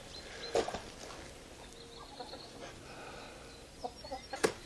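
Chickens clucking inside a coop: a handful of short, scattered clucks and calls over a quiet, faint background, without any talking.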